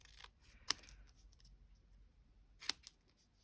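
Scissors cutting paper in half while making a Stampin' Up Easter bunny treat box, heard as two crisp, close snips a couple of seconds apart over faint rustling, with no voice.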